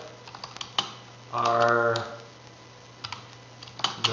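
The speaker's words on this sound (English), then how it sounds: "I could type a question in here." Computer keyboard typing: a sparse run of light, close plastic key clicks with uneven pauses, and a brief spoken word partway through.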